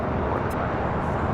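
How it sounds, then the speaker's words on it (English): A C-17 military aircraft approaching LAX sends a steady broadband roar, distant and continuous, with no voices over it. "C-17 coming to LAX, now approaching Santa Monica."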